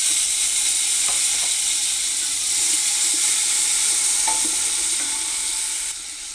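Chopped tomato hits hot oil spiced with cinnamon in a pan for a spinach chicken curry, giving a loud, steady sizzle with a few faint clinks and stirring taps, settling slightly quieter at the end.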